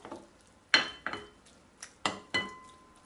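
Bread soaked in water is stirred in a bowl for Circassian chicken, heard as about half a dozen sharp clinks and scrapes of a utensil against the dish, spaced irregularly in a quiet room.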